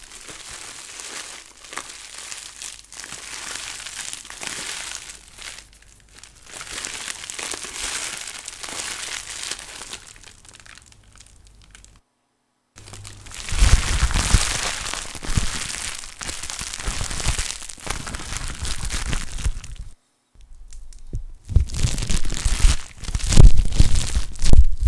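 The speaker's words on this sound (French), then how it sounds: "Bruit papier alu avec des bulles à l'intérieur." Aluminium foil with bubbles trapped inside is crumpled close to the microphone in long crinkling, crackling bursts, separated by two brief silences, with louder scrunching toward the end.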